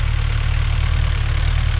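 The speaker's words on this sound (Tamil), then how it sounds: "வீடியோவில் அவ்வளோ மைல்டாக இன்ஜின் ஓடிக்கிட்டு இருக்குது" A Mahindra Yuvo Tech Plus 575 4WD shuttle-gear tractor runs at a steady, mild idle-like throb with a low, even engine rumble close by and no voices.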